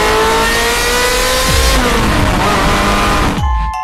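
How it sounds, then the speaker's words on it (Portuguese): Car engines rev hard and accelerate, loud and close, with rising and falling pitch sweeps as gears shift and a brief tire squeal, ending in a sharp drop. "É dia de acelerar os motorzão até o gás acabar."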